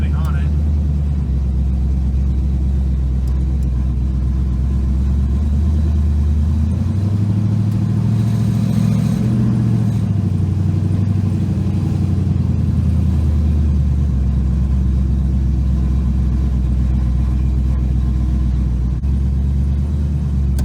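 An LS-swapped V8 in a 1977 Chevrolet Nova idles with a loud, steady low rumble, swelling briefly as it is given a little throttle and then settling back, heard close and continuous throughout.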